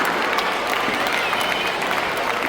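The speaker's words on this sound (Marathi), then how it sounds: "टाळ्या वाजतात का?" Continuous, even applause from a seated audience at a panel discussion, many hands clapping at once in a dense wash of sound, moderately loud and steady throughout.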